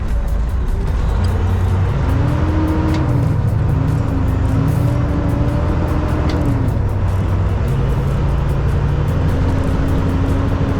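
Steady engine drone of a truck rolling through town traffic, with low rumbling tones rising and falling as it moves and shifts, continuous and close throughout, no voices.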